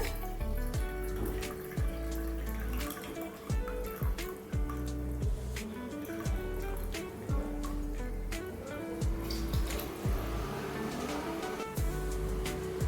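Water pours steadily into a pot of seeraga samba rice for chicken biryani, a continuous splashing, gurgling flow with faint clinks of the pot, close and fairly loud, no voices.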